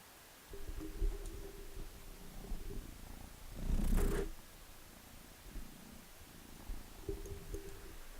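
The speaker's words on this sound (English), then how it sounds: "You have now heard the sound of the kitty." A cat purrs steadily at low volume, a soft rhythmic rumble, with a brief louder rustling burst partway through.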